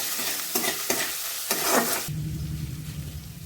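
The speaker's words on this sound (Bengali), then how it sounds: "লঙ্কা গুঁড়ো, নুন সব ভালো করে একবার মিশিয়ে দেবো।" Chili powder, coriander, cumin and salt are stirred into cauliflower frying in a pan, with scraping strokes over a steady sizzle, close and fairly loud, then the stirring stops and a low frying hiss remains, with no voices.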